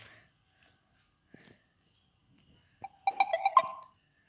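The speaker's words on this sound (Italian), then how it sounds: "Scusate se sentite il suono nelle notifiche." A short phone notification chime of several quick bright tonal blips, fairly loud against near silence, cuts in near the end, following a few faint earlier ticks while Brawl Stars is being played.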